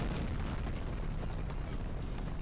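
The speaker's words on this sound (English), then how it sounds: "Oh, smoke grenade." A smoke grenade goes off in Medal of Honor: Frontline on PS2, a dense, steady rushing hiss and low rumble that fills the whole stretch at even loudness.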